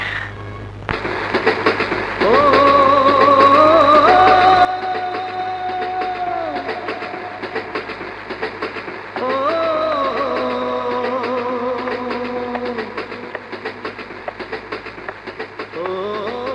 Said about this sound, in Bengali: সবসময় দেখি ট্রেনের শব্দ শুনেই কোথায় যেন হারিয়ে যাও?